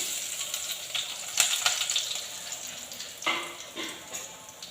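Curry leaves dropped into hot oil over popped mustard seeds, tempering for asthram curry served with kanji; a steady close hiss with crackling bursts flaring twice, no talk.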